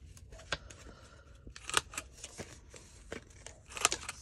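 Scissors snip through paper while a St. Patrick's Day journal page is trimmed, giving a few sharp, close cuts spread unevenly among quieter rustling, with no talking.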